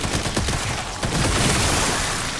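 Sustained SMG gunfire in the video game Resident Evil Requiem, a dense, loud rattling burst of rapid shots filling the whole stretch without pause or voices.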